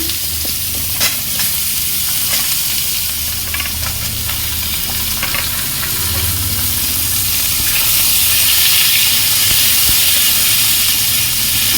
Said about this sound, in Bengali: এই দেখো কুমড়োটা ভেজে নিচ্ছি, পেঁপে ভেজে নিচ্ছি